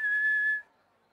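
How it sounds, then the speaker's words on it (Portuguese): A cartoon character whistles one clear, sustained high note while working, loud and close, before it stops abruptly into near silence. "adoro assobiar enquanto trabalho"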